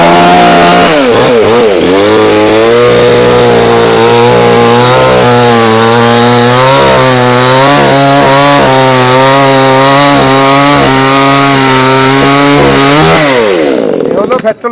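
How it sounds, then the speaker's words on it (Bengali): Petrol-powered chainsaw with a six-inch bar cutting through a tree, its engine roaring loud and steady at close range with rising and falling pitch as it bites the wood, then cutting off near the end. "এটা তেল দিয়ে চলে আমি দেখেন এই যে গাছটা কাটছি"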